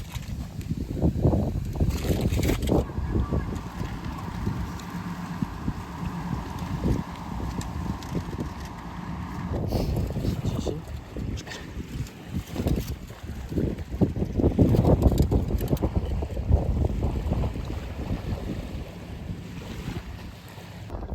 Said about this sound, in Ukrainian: Катер цей вже по колу десь певно 20-му пливе.